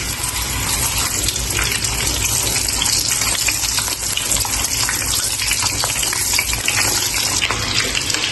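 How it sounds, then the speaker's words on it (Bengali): Boiled chicken frying in oil in a wok (kadai) for a traditional Chittagong-style chicken durus: a steady, loud, crackling sizzle that hisses on without pause and without voices. "একটি কড়াইতে তেল দিয়ে মুরগিটা ভেজে নেব"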